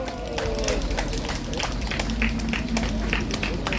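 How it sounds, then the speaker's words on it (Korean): At an outdoor political rally at Samgakji in Yongsan, Seoul, the crowd applauds a speaker coming up, with a patter of claps over background noise, fairly close and moderately loud. "큰 박수 부탁드리겠습니다"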